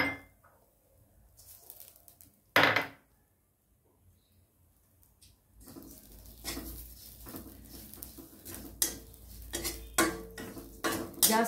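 Prawns are roasted in a pan with homemade chili powder, coriander powder, garam masala and turmeric, heard as a close, soft sizzle with clinks and scrapes of a utensil against the pan and a sharp clatter early on.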